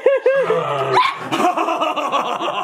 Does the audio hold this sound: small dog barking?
yes